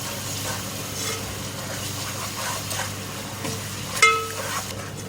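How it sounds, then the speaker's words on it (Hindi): Spices such as ground coriander and nutmeg-mace powder roasting in a pan for aloo yakhni pulao, a steady soft sizzle and frying hiss that runs throughout with a brief clink near the end. "मसाले शामिल करके 1 मिनट मैंने इसको भून लिया है।"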